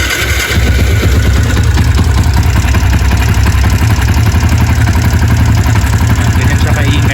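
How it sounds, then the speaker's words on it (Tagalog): A Yamaha Sniper 150 motorcycle engine fitted with a manual cam chain tensioner idles steadily up close, a loud continuous low rumble with fine mechanical ticking that runs unbroken through the whole stretch. "Yan, testing natin kung mawala nga ba yung ingay sa kanyang makina."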